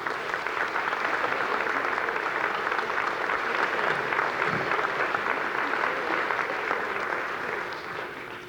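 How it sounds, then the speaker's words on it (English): Sustained, dense applause from a large audience greeting the President of Providence College at a foundation event, an even roar of many hands clapping that holds for about eight seconds before tapering slightly. "Thank you for the applause."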